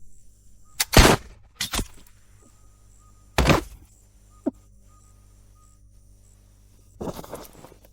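Rifle shots, several sharp cracks with short ringing tails spread across a few seconds, the loudest near the start, with a softer thud between them over a faint steady hum.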